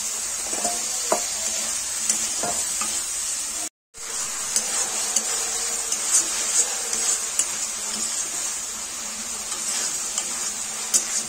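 Fried potatoes stirred into a cumin and garam masala spice paste for a soybean-potato curry give a continuous bright sizzle from the pan, with occasional spatula scrapes and a brief dropout partway through.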